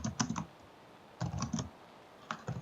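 Someone types on a computer keyboard in short bursts of quick, close clicks, three clusters separated by brief pauses, fairly quiet and without talk.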